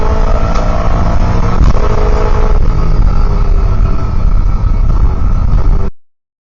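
Racing cars thunder down the main straight in a touring car race, a loud, continuous engine roar that holds steady before cutting off abruptly near the end.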